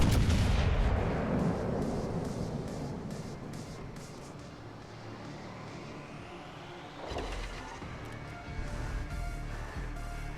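Battleship guns firing in the naval combat game World of Warships Legends, a heavy booming broadside up front that rumbles away, followed by a second blast near the seven-second mark amid continuous game sound, with no talking.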